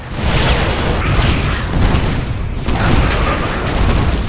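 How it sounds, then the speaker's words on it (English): Heavy sustained energy-weapon fire from a Thor's particle cannons in StarCraft 2, a loud continuous roar of booming blasts with a brief dip midway before resuming, no talk. "The Thor is also armed with particle cannons."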